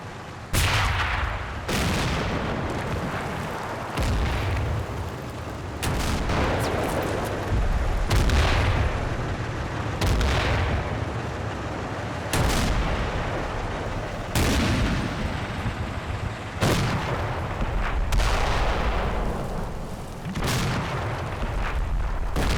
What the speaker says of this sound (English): As the mortars come in, the company scatters.